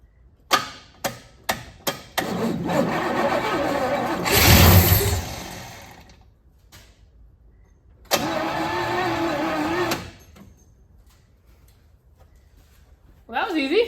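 A 1972 Oldsmobile Cutlass sprayed with starter fluid has a few sharp clicks, then a burst of cranking and a short engine catch and roar. A second run follows, with gaps of near silence between.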